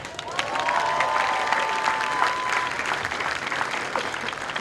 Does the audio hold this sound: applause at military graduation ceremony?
yes